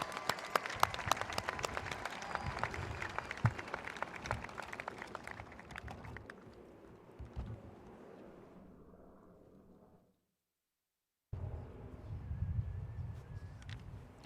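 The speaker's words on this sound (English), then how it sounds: "One more round of applause for these outstanding students." An audience at a high school commencement applauds in sustained clapping, busy at first and gradually thinning, then a brief silence before another burst of applause resumes.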